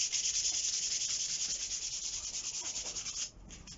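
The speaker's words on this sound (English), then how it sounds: "Yeah, and you just sand it off." Sandpaper rubs the black finish off a wooden Viking axe handle in quick back-and-forth strokes, a steady close scratchy rasp that stops abruptly near the end.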